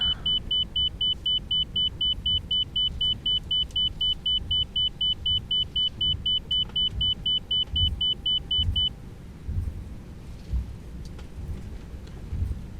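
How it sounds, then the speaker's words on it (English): An inner marker beacon sounds in an A321 flight simulator cockpit as a rapid, evenly spaced run of high-pitched beeps for about nine seconds before it stops, leaving a low background hum. "Almost positive that's again an inner marker beacon that I'm picking up."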